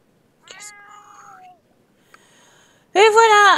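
A cat in The Sims 4 meows twice, a longer whining call and then a loud, close, sharp meow at the end, with quiet gaps between.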